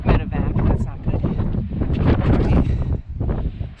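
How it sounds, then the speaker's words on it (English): Strong wind buffets the microphone on Franconia Ridge, a loud, gusty rumble that roars and briefly eases throughout, with a person talking through it. "Oh, a little windy."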